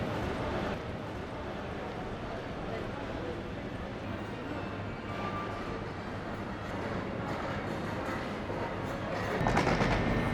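A steady, loud rumble of a train at a station with rattling clatter throughout, brief metallic squeal midway, and a louder burst of noise near the end.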